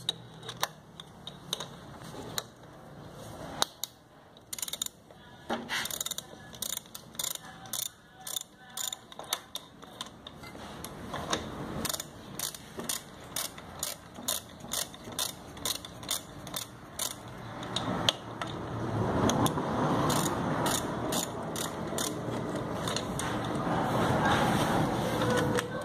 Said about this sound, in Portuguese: Vamos tirar esses dois parafusos de 10 milímetros aí.